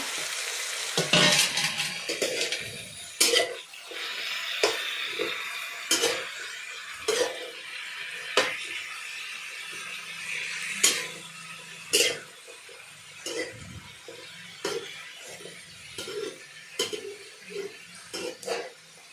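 A spoon stirring potatoes frying in a cooking pot, giving a series of irregular scrapes and clinks against the metal over a low sizzle, with occasional quiet voices and a cough nearby.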